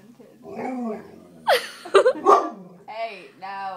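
A dog nearby lets out a string of vocal barks, yips and howl-like whines, mixed with a short human voice.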